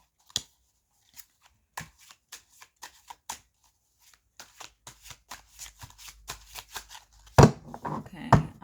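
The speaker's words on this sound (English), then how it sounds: "I'm shuffling a little bit." Tarot cards being shuffled by hand, a run of crisp riffling flicks that quickens into dense rapid bursts, with a louder cascading shuffle near the end, close and fairly quiet with no talking.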